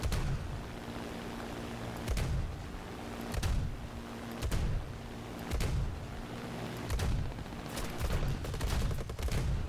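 Bursts of rapid aircraft cannon fire in a video game rattle out in repeated volleys about every second or two, loud and heavy over a constant engine drone.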